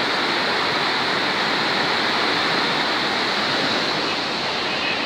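Water rushes loudly and continuously through a canal at a barrage bridge, a dense, even roar of flowing water with no pauses.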